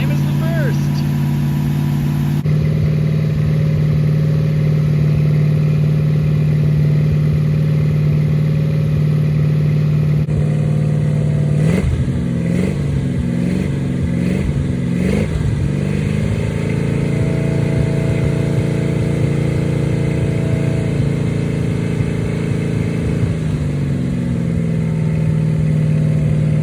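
A freshly built 440 V8 runs steadily in a 1970 Plymouth 'Cuda during break-in, a loud continuous drone with a brief rev change midway, heard up close and alone.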